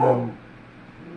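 A small dog gives a single short bark or yip, close and fairly loud, then trails off into quiet room tone; no one speaks over it.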